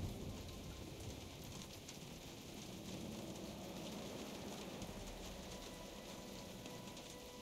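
Heavy rainstorm in Jurassic Park The Game, a dense continuous hiss of falling rain with faint rumbling underneath, steady and enveloping with no voices.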